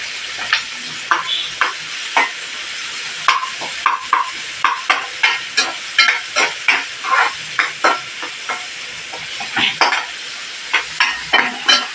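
Onion, tomato and ginger garlic paste sautéing in a pan for palak paneer, steady close sizzling punctuated by rhythmic spoon scrapes and taps as the mixture is stirred.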